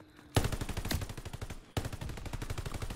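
A BAR rifle fires in a first-person shooter game in rapid automatic bursts, loud and close, with a short pause between two long strings of shots and no talking.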